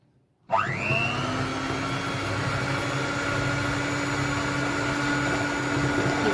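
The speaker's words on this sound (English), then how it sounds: "we're going to get the mixer on" An electric cake mixer switches on and runs at very low speed through raspberry swirl cupcake batter, rising briefly in pitch, then holding a steady, close whirring hum.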